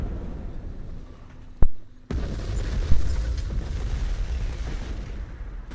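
Ammunition cooking off inside a destroyed KV-1 tank in War Thunder, a sharp sudden blast followed by a louder rumbling eruption and a second burst, with a low continuous roar and crackle trailing on.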